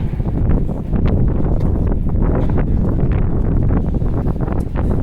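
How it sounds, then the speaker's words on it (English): Strong wind buffets the microphone outdoors on a waterfront walk, a loud continuous rumbling roar with gusty fluctuations throughout. "I'm going to be battling wind a little bit today"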